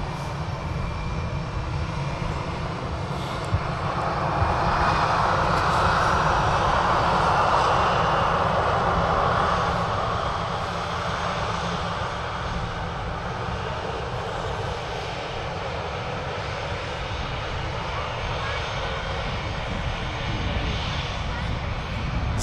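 Engines of a Ryanair airliner at Manchester Airport give a steady broad roar that swells and holds at moderate distance, with people talking over it throughout.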